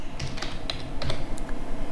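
Rapid typing on a computer keyboard while entering Python code, a quick irregular run of crisp clicks and key taps, close and clear with no talk.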